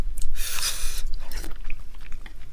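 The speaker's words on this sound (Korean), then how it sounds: "그 계란찜 한 번만 먹고 할게요" Close, wet chewing of a mouthful of Korean steamed egg during a mukbang meal, with a loud, soft squelch early on followed by steady rhythmic mouth sounds, no talking.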